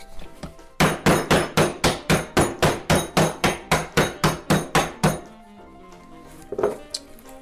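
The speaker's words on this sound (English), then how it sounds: "the next thing I'm going to do is crush some ice" A mallet pounds ice inside a loose bag in a quick, even series of about fifteen sharp, crunching blows, close and fairly loud, then stops, leaving faint clinks and room sounds.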